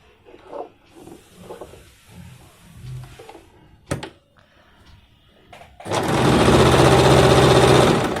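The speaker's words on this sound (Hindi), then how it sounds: "उसके बाद इसे इस तरह से पकड़ के जैसे इसकी भी सिलाई कर देते हैं।" A sewing machine stitches an Afghani salwar, running loud and steady for the final two seconds after quieter handling sounds and brief clicks.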